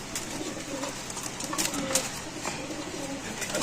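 Pigeons coo softly at a busy pigeon market, with steady crowd murmur and people talking nearby throughout.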